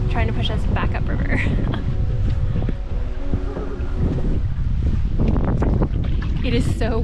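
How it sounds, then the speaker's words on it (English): Strong gusty wind buffets the microphone on a river while canoeing on the Saugeen River, a loud, steady roar with rushing water and voices talking over it throughout. "It is super windy right now, trying to push us back up river."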